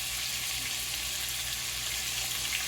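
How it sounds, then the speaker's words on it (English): Onions frying in the juice and fat of hamburger steaks give off a steady, close sizzle that holds evenly throughout, with no one talking. "just let them cook in the juice and the fat of the hamburgers"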